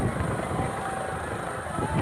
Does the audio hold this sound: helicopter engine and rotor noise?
yes